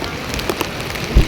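Heavy downpour during a Yamunotri pilgrimage, a dense steady hiss of rain on surfaces with a few brief louder knocks near the end, close and continuous.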